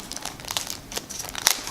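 A plastic bag crinkles close up while a DJI Osmo Pocket camera is unboxed, with irregular crackles and rustles and a sharper crunch near the end, moderately quiet with no talking.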